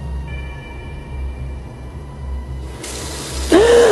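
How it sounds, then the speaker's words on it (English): A kitchen water tap turns on by itself indoors, a sudden broadband rush of water starting near the end over a steady low hum and rumble, preceded by faint tonal whines. "Oh my God, the water just turned on."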